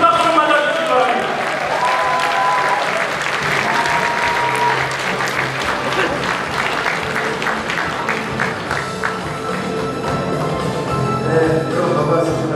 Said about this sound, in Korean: 여러분 박수 맞아주시기 바랍니다